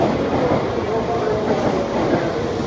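Steady rumble of a Shinkansen bullet train in motion, heard from inside the carriage as a continuous broadband roar with faint rhythmic rail clatter throughout.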